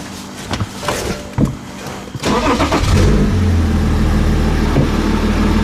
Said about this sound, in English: With the fluid topped off, we want to start the car.